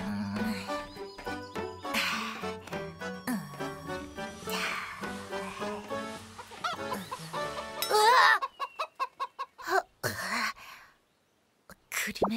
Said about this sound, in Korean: 으아, 씨암탉 있다!